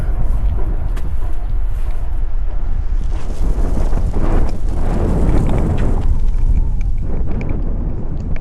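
Strong wind buffeting a microphone outdoors near dumpsters, a loud, constant low roar with gusty swells in the middle and no clear speech.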